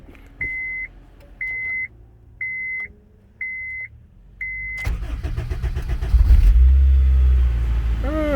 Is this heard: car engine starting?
yes